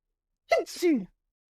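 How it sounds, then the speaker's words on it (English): A single short, sharp sneeze, close and fairly loud, with a quick breathy burst and a voiced tail, alone in silence. "I'm gonna sneeze"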